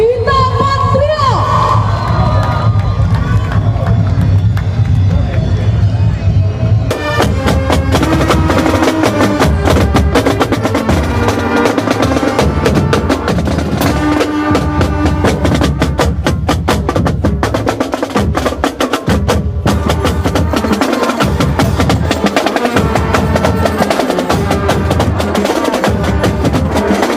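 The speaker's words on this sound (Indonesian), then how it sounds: "Sekali lagi kita kasih tepuk tangan yang meriah" Crowd at a night carnival in Pamekasan cheering and clapping for a marching band, loud and sustained, with music and rhythmic drum hits joining partway through.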